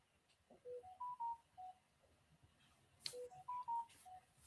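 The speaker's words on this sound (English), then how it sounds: "somebody answer that phone." Telephone keypad tones sound during a live talk stream, a short run of distinct musical beeps at varied pitches in two quick sequences, fairly faint against a quiet background with no talking.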